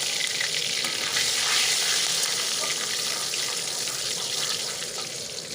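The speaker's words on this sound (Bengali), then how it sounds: "কড়াইতে তেল আমার গরম হয়ে গেছে এরপর দিয়ে দেব গরম মশলা আর ফোড়নের জন্য দিয়ে আর তেজপাতা" Whole garam masala and bay leaves fry in hot mustard oil in a kadai while making lau chingri, giving a loud, steady, hissing sizzle that fades slightly toward the end.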